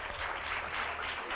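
Studio audience applause on a Portuguese daytime talk show, a steady dense patter of clapping throughout, moderately loud with no voices over it.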